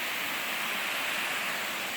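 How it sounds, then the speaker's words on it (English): A waterfall beside a hiking trail roars as a steady, dense broadband rush of falling water, close and constant with no voices. "I hope you can hear me over the waterfall"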